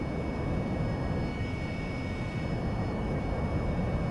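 An airplane engine is throttled up to full power and gives a steady, loud, even drone with no break.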